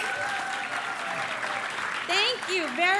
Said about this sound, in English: Yeah, let's clap some more.